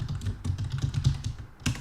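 Fingers tap out an address on a computer keyboard, a quick steady patter of close key clicks with no talking.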